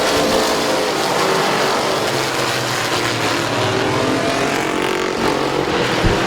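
Race cars running side by side near the end of a race at Midvale Speedway, with a loud, continuous engine roar close by that holds steady the whole time.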